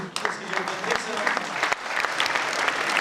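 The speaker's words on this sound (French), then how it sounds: "je vous demanderai tous d'applaudir tous les petits cuisiniers en herbe qui ont travaillé aujourd'hui" An audience at a school cooking event applauds the young cooks, a lively continuous burst of clapping with individual sharp claps standing out, fairly close and steady throughout.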